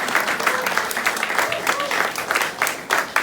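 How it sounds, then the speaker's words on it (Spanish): Congregation applause at a church sermon, a rough burst of clapping with uneven peaks, close and fairly loud, mixed with some voices. "pero darle un aplauso."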